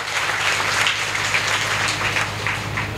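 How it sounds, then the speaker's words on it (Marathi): Crowd applause at a Beti Bachao Beti Padhao public event during a speech, a steady dense wash of clapping from a large audience, loud and continuous throughout with a constant low hum underneath. "एकदा जोरदार टाळ्या वाजवून आपण सरकारचं कौतुक करा"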